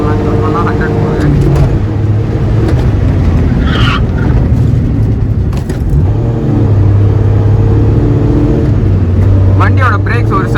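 Maruti 800 with its original naturally aspirated engine accelerating hard on the road, held in third gear up to its limit; a steady loud engine drone with rising tones fills the cabin throughout.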